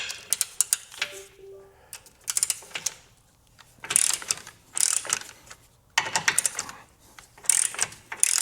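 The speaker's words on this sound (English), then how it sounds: "we're gonna take a 16mm socket, and we're just gonna get our hooks removed." A hand ratchet driving a 16mm socket clicks in short rapid bursts while removing tow hooks from a 2025 Jeep Grand Cherokee, with quiet pauses between the bursts.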